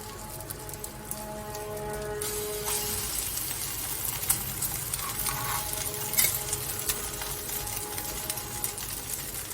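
Shami kababs frying in ghee on a tawa, a steady crackling sizzle like light rain, with faint scraping and a low background hum throughout.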